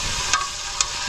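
Cinnamon sizzling in hot oil in a pan for pepper chicken, a steady close frying hiss with two brief clicks or stirs, no voices.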